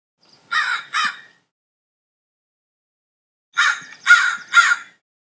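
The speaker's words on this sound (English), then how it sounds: "There's nothing else there but the crows" Crows cawing in two bursts, first a pair of harsh caws and then a run of three after a silent pause, loud and clear with nothing else around them.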